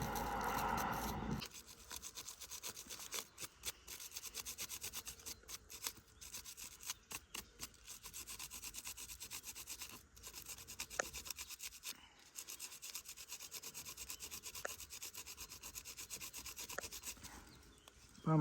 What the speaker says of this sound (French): je suis en train de poncer le duramen